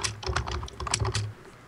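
Rapid keystrokes clatter on a computer keyboard in a quick, uneven burst of clicks, close and clear with no talking.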